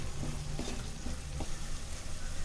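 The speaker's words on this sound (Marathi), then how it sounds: "कमीत कमी 3 ते 4 मिनिट हा मसाला चांगला भाजून घेऊया" Masala roasting in hot oil in a pan for stuffed brinjal, a dense continuous sizzle and crackle with some stirring scrapes, close and loud throughout.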